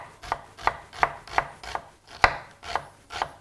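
An onion is chopped finely with a knife on a cutting board, about nine crisp, evenly spaced knocks in a steady rhythm, close and clear, with no talking.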